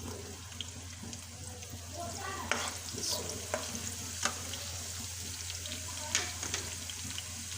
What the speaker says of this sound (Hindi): मैंने इसको दाल को तड़का लगाना था। लहसुन डाला